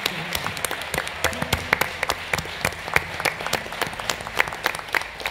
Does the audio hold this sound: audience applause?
yes